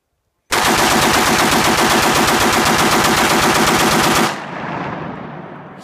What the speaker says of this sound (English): first time bump firing my fucking mini